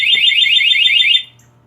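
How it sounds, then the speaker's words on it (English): A Craftsman truck alarm gives a warning beep, a loud, shrill, rapidly warbling electronic tone lasting about a second before cutting off abruptly. "that's just a warning beep"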